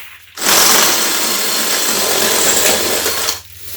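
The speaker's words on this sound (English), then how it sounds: "yeah, drilling out, I guess." A power drill whines steadily for about three seconds, drilling into cement during a kitchen renovation, starting and stopping abruptly, loud and close with no speech.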